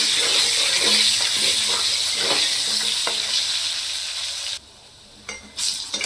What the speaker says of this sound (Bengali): এটাকে লাল করে ভেজে নিচ্ছি